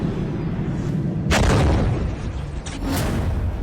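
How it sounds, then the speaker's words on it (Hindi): Iranian missile launch: a sudden loud roaring blast bursts out of steady background rumble, holds briefly, then a second sharper burst follows moments later. "ईरान ने एक बार फिर मिसाइल लॉन्च करते हुए दिखाई है।"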